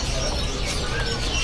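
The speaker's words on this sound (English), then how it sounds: "There's a lot of birds in here as well" Many birds chirp and call together in a busy bird market in Denpasar, a dense, steady wash of tweets filling the space, close and continuous.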